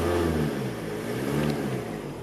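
The diesel engine of a 1994 Toyota Sprinter 4WD runs steadily at a smooth, quiet idle, heard close up with a low continuous hum and no talk.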